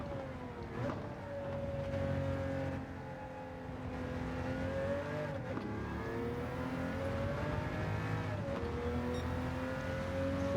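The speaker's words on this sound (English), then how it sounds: "I'm just going to coast and lift and then brake into the corner" The engine of a Huayra-swapped 1997 Toyota Supra RZ in Gran Turismo 7 holds a steady drone and dips sharply several times as the driver lifts and brakes for corners, then pulls again, with no talking.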